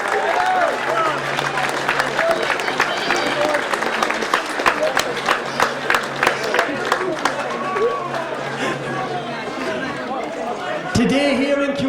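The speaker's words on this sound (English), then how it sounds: "give a very, very big round of applause to both sides on a marvellous under-21 final" A crowd at an under-21 hurling final at Cusack Park applauds both teams, with sustained clapping and cheering and voices mixed in, ending in a sudden shift near the close.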